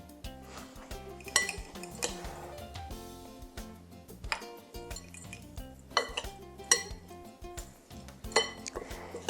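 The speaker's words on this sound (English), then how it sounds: "So next we're going to stir in our powdered sugar." A spoon stirring powdered sugar into chopped almonds and apricots in a bowl, with repeated scraping and clinking strokes against the dish, close and fairly soft, in an irregular rhythm.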